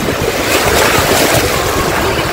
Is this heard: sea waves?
yes